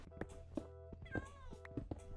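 Cat meowing in the Minecraft video game, a short in-game meow among soft clicks and thumps of gameplay, quiet and close with no talking.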